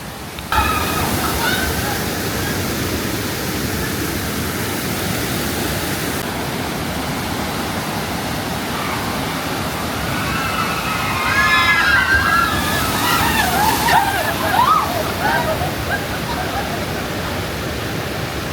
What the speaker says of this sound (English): The raft literally goes over that geyser. You're gonna get wet.